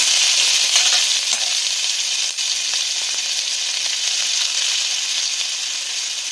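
Onions and green chillies fry in hot oil over spices already tempered for a fish-oil chorchori with greens and vegetables, a loud, steady close-up sizzle with occasional stirring scrapes.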